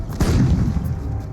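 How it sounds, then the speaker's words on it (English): Massed fire from 700 Allied guns opening an artillery barrage, a loud rolling boom that swells early and rumbles on continuously without any voices. "It begins with an artillery barrage by 700 Allied guns."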